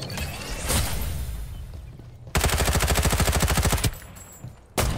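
Rapid automatic gunfire in the video game Farlight 84: a steady, loud burst of evenly spaced shots lasting about one and a half seconds, preceded by a single sharp shot and followed by another abrupt blast.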